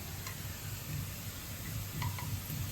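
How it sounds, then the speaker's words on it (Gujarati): Onion sautéing in a pan, giving a soft, steady sizzle with a few faint clicks and ticks over a low background hum, fairly quiet and with no one speaking. "ચલો ડુંગળી સતળાઈ ગઈ"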